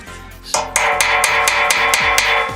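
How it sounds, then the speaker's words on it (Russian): Sharp metallic hammer strikes driving a key into a screw on a washing machine drum, about eight blows in a quick, fairly regular rhythm, close and loud with ringing clinks. "Вбиваем молотком."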